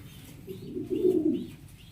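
A single soft, low pigeon coo rises and fades over about a second at a farm, close by against a quiet background with faint higher chirps.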